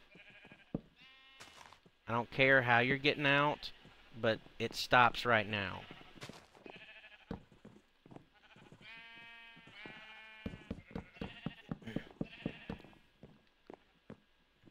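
Sheep bleat in the Minecraft video game, several short calls scattered through the scene while someone talks loudly over and between them.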